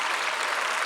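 A church congregation at a prayer rally claps together, a dense, loud, continuous burst of applause filling the whole moment.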